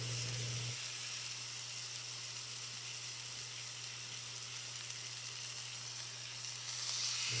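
Steak fat cap searing in a hot pan with rosemary, a steady, loud, continuous sizzle and hiss holding evenly throughout, with a low steady hum underneath.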